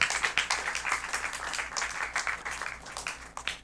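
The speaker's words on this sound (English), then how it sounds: "A round of applause for him" Audience applause at an oratory competition, a steady, moderately quiet patter of many hands clapping with a slightly uneven rhythm, heard alone without talk.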